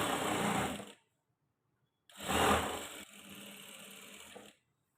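A domestic sewing machine stitching a blouse runs in two short bursts, a whirring rattle of about a second, a pause, then a longer run of roughly two and a half seconds that eases to a lighter steady hum.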